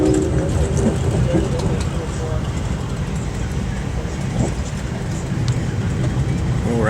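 An Amtrak train pulls out of Penn Station, heard from inside the carriage as a steady low rumble and rolling rail noise, with people talking faintly over it.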